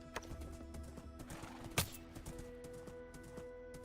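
A horse canters along during jousting in the video game Minecraft, with light, uneven clip-clop hoofbeats, one sharp hit partway through, faint and without talk.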